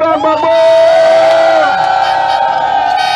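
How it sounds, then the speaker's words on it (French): Loud crowd noise at a Paris birthday gathering for Laurent Gbagbo: sustained cheering, whooping and shouting voices filling the whole stretch. "On fait du bruit pour Laurent Babo."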